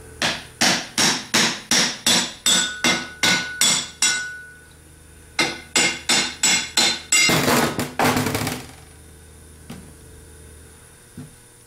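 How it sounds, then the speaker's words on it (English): Sharp metal hammer blows ring out in quick, even bursts as the back lid is knocked off a Ford 3G alternator, pausing briefly before another run of strikes and a clattering rattle, then faint taps. "Now we're going to take a hammer and just pop the back lid off."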